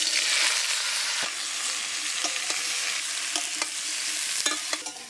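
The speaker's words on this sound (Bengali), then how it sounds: "তো এঁচোড়টা এবার তেলে ভেজে নেব।" Young jackfruit pieces, already salted and seasoned with turmeric, fry in mustard oil in a wok, giving a steady close sizzle with scattered pops and a few scraping stirs throughout.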